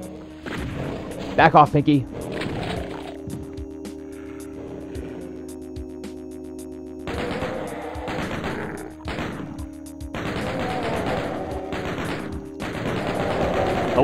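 Shotgun blasts from the video game Doom, several loud booming shots spread through the stretch amid game noise, with someone talking over parts of it.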